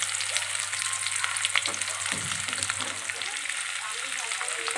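Potato and pointed gourd pieces frying in a pan, a continuous soft crackling sizzle with a few louder spits and stirring sounds.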